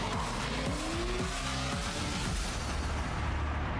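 A DeLorean skids with sustained tire squeal in a Hollywood stuntman driving video game, engine roaring loudly throughout under steady tire screech, with no talking.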